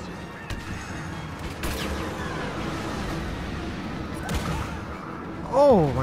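Dense gunfire and blasts roll continuously in Star Wars Battlefront with voices underneath, ending in a loud rising pulse cannon whine near the end.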